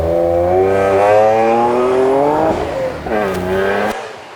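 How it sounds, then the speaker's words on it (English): A twin-turbo 3-litre V6 engine of an M12 GTO race car roars loudly on a track with rising revs, then drops and climbs again before cutting off abruptly. "got 2 turbos, which you can hear whistling away there and boost away"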